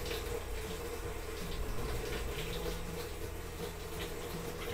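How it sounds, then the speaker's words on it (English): Cold water pours into the tub of a Whirlpool Cabrio top-load washer (WTW80) running in diagnostic mode, a steady, close rushing flow with a low mechanical hum underneath, continuous and unbroken throughout. "Press the start button to activate. You should hear the cold water come out."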